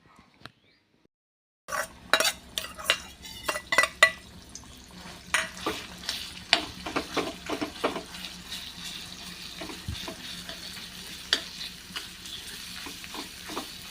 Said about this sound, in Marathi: कढईतलं तेल छान गरम झालं आहे आता हे वाटण आपण यामध्ये टाकून घेऊया आणि छान परतून घेऊया